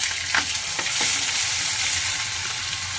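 Masala paste for a fish curry sizzles steadily in a hot pan, a close, continuous frying crackle with a few stirring scrapes and no voices.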